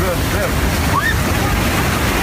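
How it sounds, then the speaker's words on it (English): Large ocean waves driven by a small hurricane roar and wash ashore at Cabo San Lucas, a steady loud surf rush with wind buffeting the microphone, while people's voices exclaim over it. "tourists found themselves much closer to the waves in Cabo San Lucas than they expected"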